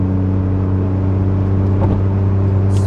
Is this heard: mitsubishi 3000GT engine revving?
yes